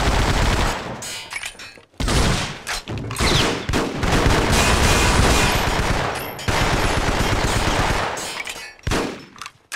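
Bursts of automatic gunfire from an M3 grease gun in the Vietnam War shooter Vietcong, loud sustained rattling volleys broken by short pauses across the whole stretch, with no talk over them.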